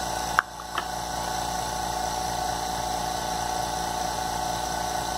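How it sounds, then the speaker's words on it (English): A laboratory vacuum pump evacuates a thick-walled flask through an attached hose, giving a steady, dense mechanical drone throughout, opened by a brief sharp click and a small clunk. "opening the valve, attaching the hose from the vacuum pump, and we're evacuating it for a couple of minutes"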